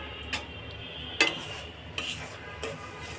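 A spatula scrapes and stirs a mix of gram flour and semolina frying in a pan for halwa, giving four soft, separate scraping strokes over a quiet background.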